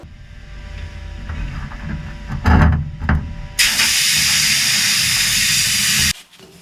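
Pressure washer blasts parts of an abandoned 1966 mower with a loud, even hiss that starts suddenly after some clunks and handling noises, runs steadily for a few seconds, then stops sharply.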